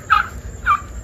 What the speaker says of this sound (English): Blue slate turkeys.